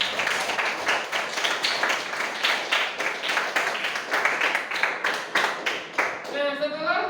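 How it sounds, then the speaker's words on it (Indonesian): Classroom students applaud together in a dense, steady burst of clapping that runs nearly the whole time, close and loud, then gives way briefly to a voice at the end. "kita kasih tepuk tangan untuk kita semua yang sudah maju hari ini"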